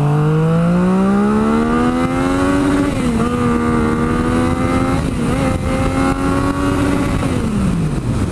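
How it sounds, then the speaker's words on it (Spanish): Yamaha MT-09 motorcycle with a Two Brothers exhaust, ridden in B mode, its engine revving loud and close as the pitch climbs through gear changes and then falls away. "quiero que vean el modo B Como jala le voy a dar todo aquí"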